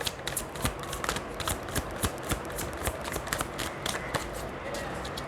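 Tarot cards being shuffled during a Hindi-language tarot reading, a steady crisp riffling of cards with quick papery flutters repeating throughout, close and fairly soft.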